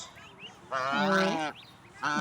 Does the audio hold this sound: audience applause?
no